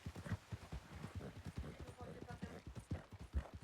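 Horse hooves clip-clop in a quick, regular rhythm as a horse is ridden past bandits in a Western video game, close and fairly quiet, with steady running beats throughout.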